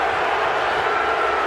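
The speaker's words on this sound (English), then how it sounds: "I can see why the crowd here is fired up" A football stadium crowd at a Canadian Football League game roars in a dense, continuous wall of cheering, loud and steady throughout with no distinct individual voices.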